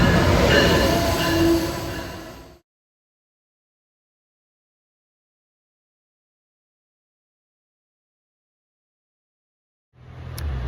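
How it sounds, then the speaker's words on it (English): A New York subway train rumbles and rattles loudly with metallic squeals for a couple of seconds, then cuts to silence before the ride noise briefly returns at the end. "I'm heading on the train in just a couple of minutes."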